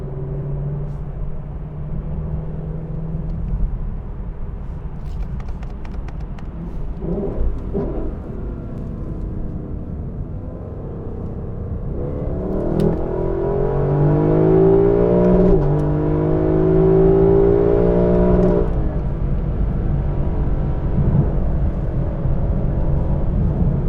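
A Lexus LC 500 on summer run-flat tires drives and merges onto a highway, its engine a low steady hum that swells into a rising rev and acceleration midway through, with rumbling road noise beneath.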